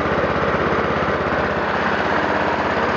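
Massey Ferguson 14 horsepower riding lawn mower engine running at a steady idle, a loud close continuous throbbing drone with an even pulsing rhythm and no talk.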